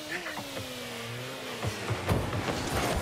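A car in Rocket League hums with a steady engine tone that dips in pitch, overlaid by a whooshing turbo boost and a few sharp knocks, close and moderately loud.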